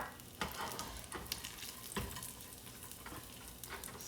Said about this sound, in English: Now in the same pan, and the ghee is also left over, I'm going to fry this raisins.